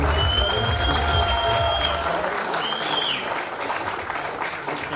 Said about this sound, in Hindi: जोरदार तालियों के साथ स्वागत करते हैं सहवाग जी का।